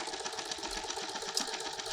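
A sewing machine stitching quilting lines on a patchwork piece, a fast, steady, even mechanical rattle at moderate volume with no talk.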